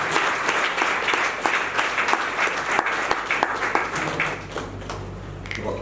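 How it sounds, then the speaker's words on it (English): An audience gives a round of applause for award winners, with full, steady clapping throughout that thins slightly toward the end. "give them a commensurate round of applause"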